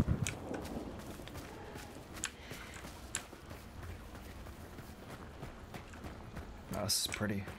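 Horse hooves clip-clopping in the game Hunt: Showdown, a steady run of soft hoofbeats under ambient game noise with a person talking over part of it.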